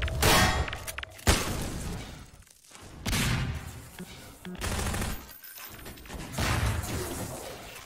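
Shotgun blasts and gunfire in a Half-Life 2 Deathmatch 2v2 match, a series of loud booming bursts with short gaps between them, dense and close throughout.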